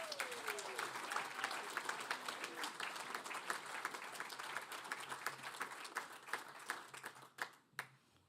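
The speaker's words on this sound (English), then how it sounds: "please join me in applauding" An audience at a graduation ceremony in Palmerston North gives steady, dense applause with many overlapping hands, sustained throughout and thinning into a few scattered claps near the end.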